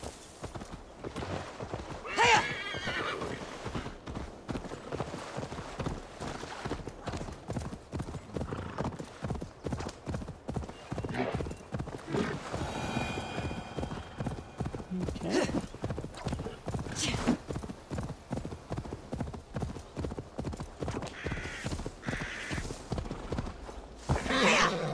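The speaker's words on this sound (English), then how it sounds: "How did I used to call my horse?" A horse gallops with steady rapid clip-clop hoofbeats and neighs in Assassin's Creed Valhalla, the Wrath of the Druids expansion, with the game's ambience running beneath and a player talking over it.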